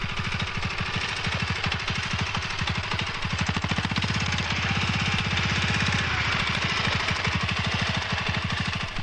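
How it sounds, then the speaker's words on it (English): A power unit's engine runs steadily in a field, its loud, fast rhythmic thumping continuing unbroken for several seconds, close to the listener. "With the engine running, the power unit can now be driven to the other end of the field"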